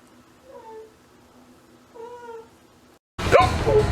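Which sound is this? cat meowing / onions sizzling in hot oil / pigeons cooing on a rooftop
cat meowing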